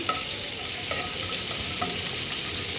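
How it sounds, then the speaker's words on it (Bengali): Cinnamon, cardamom and bay leaves fry in hot oil, giving a continuous close sizzle with occasional spatters and the clatter of stirring. "এই যে এখানে দারচিনি, এলাচ, তেজপাতা একটু তেলের মধ্যে ভেজে নিতে আসি"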